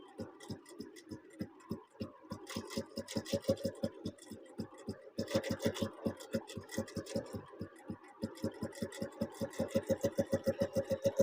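A sewing machine with a pressure foot stitching fabric, running in a fast, even mechanical chatter of needle strokes that speeds up and slows in stretches, close and steady with no talking.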